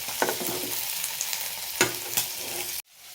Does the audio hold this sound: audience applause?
no